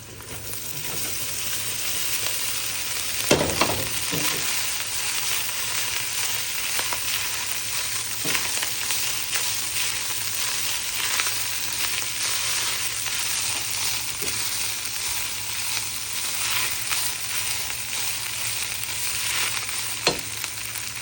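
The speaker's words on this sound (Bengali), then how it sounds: "ভাত ভাজি করব" Rice stir-fried with egg in a pan, a steady close sizzle running the whole time, broken by a few sharp clinks of a spatula against the metal.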